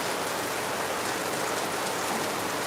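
Steady heavy rain pours down in Lagos, a dense continuous hiss of drops on surfaces with no pauses, filling the scene evenly at moderate loudness with no voices.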